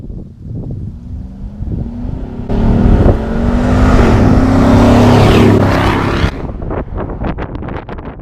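A restored Toyota Land Cruiser FJ40 with a 5.7 LS aluminum-block V8 drives off, its engine note rising as it accelerates and holding a loud, steady drone before easing back, with wind rushing past the microphone.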